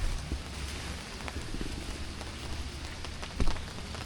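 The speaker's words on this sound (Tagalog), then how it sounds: "Ulan na." Rain falling at a campsite during a first solo overnight camping trip, a steady close patter of drops with a few sharper taps standing out, running alone without talk.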